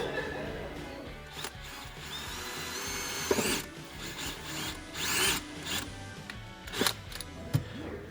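A power drill bores a pilot hole for sheet metal screws while a rock light kit is installed. The motor whirs in short rising bursts, close and moderately loud, between quieter handling noises.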